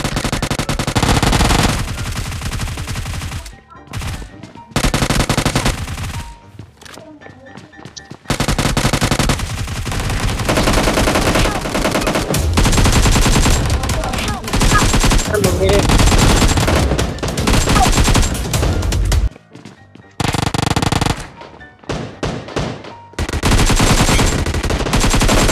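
Gunfire from the BGMI mobile battle royale game comes in loud, dense bursts of rapid automatic shots with brief pauses between volleys, with a voice talking at times.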